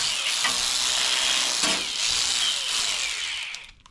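A ratchet wrench tightens the ground bolt on a zero turn mower, producing a dense, steady close-up clicking and rasping that runs almost continuously for several seconds before stopping abruptly.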